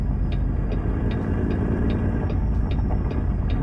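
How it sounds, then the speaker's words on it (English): A 1974 Hayes Clipper needle-nose logging truck engine in a truck-driving game drones steadily from inside the cab, a dense low rumble with faint periodic ticks, with no talk over it. "at least the engine that you're hearing from is from all inside the truck"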